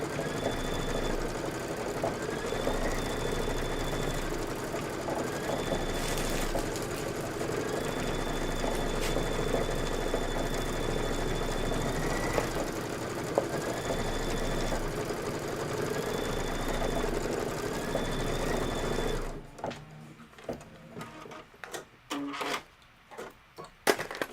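A computerized embroidery machine stitching out a treetop design, a fast steady mechanical whir and chatter with a repeating periodic tone, running for about twenty seconds before stopping and giving way to scattered quiet clicks and handling noises.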